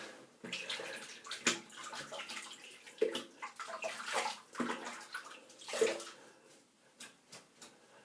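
A Frank Shaving G4 22mm shaving brush rinsed under running water, steady splashing and sloshing from a tap with irregular surges, fairly quiet and close, no talking.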